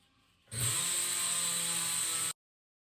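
A tire changer machine whirs steadily for about two seconds with a bright high-pitched mechanical whine, starting and stopping abruptly.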